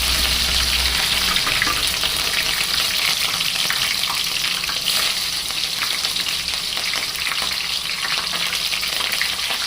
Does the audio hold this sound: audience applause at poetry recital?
no